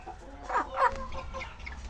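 Chickens in a coop shared with turkeys give a couple of short, close clucking calls over a steady low farmyard hum, with no voices.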